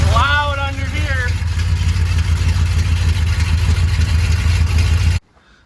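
A 1977 Dodge D200 pickup engine runs with a custom exhaust, heard from underneath as a loud, steady low rumble for about five seconds before cutting off, with a brief voice over its start.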